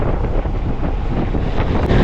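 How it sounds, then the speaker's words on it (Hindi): A Honda CB200X motorcycle cruising at around 85 on an open mountain road in Ladakh, heard as loud, steady roaring wind buffeting the microphone, with little engine tone coming through. "85 पे चल रही है बाइक, बढ़िया एकदम बढ़िया।"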